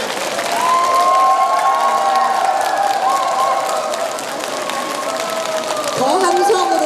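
An audience at a Buddhist dharma talk, held outside a temple hall, claps loudly to welcome a senior monk. The sustained applause carries cheering and raised voices that swell near the end.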